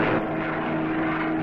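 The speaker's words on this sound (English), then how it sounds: "These thunderbolts are dive bombers." Loud, continuous droning roar of a Thunderbolt dive bomber aircraft engine and propeller in flight during wartime, steady and close with no break.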